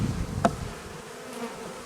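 Honeybees hum faintly near the microphone around a hive, a low buzzing drone with a brief louder pass as one flies close.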